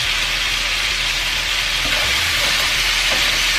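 Meat pieces frying in a pan for a Mexican carne con chile y papas, a loud, continuous close-up sizzle with a dense steady hiss and no talk.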